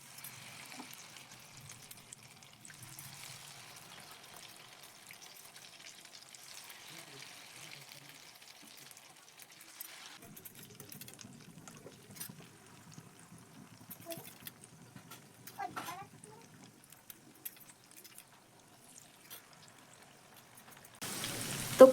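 Batter-coated flour snacks sizzle and crackle in hot oil, a soft, steady frying hiss with scattered pops throughout, heard at close range and without any talking.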